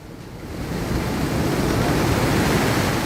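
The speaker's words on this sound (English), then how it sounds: "Dehradun's rugged terrain is now lashed by relentless rain, has left the Song River in full spate." The Song River in full spate after relentless rain near Dehradun, a dense, continuous roar of rushing floodwater that builds slightly and then holds loud and steady throughout.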